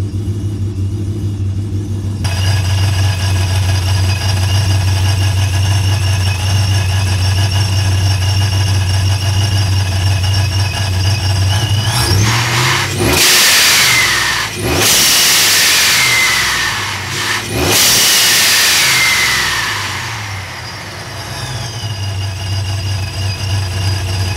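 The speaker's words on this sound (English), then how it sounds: "It's by far, I think, one of the best sounding supercharger I have had today." A TorqStorm-supercharged fourth-generation Ram 1500 with Nitrous Express idles with a steady low rumble, then revs hard several times, each blip surging into a loud whining roar before settling back, close and with no talk.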